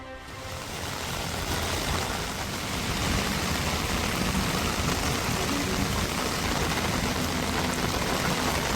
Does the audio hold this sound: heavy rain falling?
yes